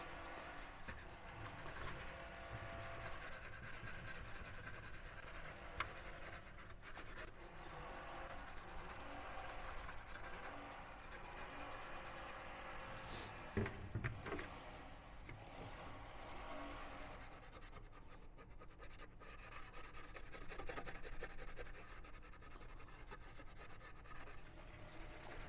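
A Brillo pad sands paint off a football helmet with a continuous, close scratchy rubbing that stays steady throughout, broken by a few small knocks.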